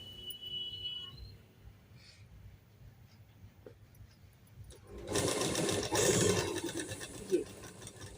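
A sewing machine stitches a trouser pocket, running faintly at first and then in a louder burst of rapid stitching near the end, with some background noise.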